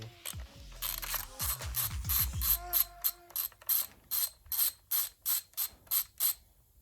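Ratchet wrench working a bolt loose from a Honda CRX engine: several heavier cranking strokes, then a brisk, evenly spaced run of about a dozen sharp ratcheting clicks, close and clear with no talk.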